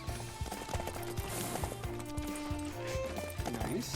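Hooves of a horse galloping in the Samurai Warriors 5 video game, a steady clip-clop rhythm running throughout over game music and effects, fairly loud and continuous.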